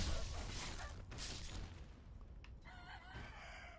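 Chickens in the video game Sekiro, with a rooster-like crow and clucking mixed into game background noise and a low boom at the start, fairly faint overall.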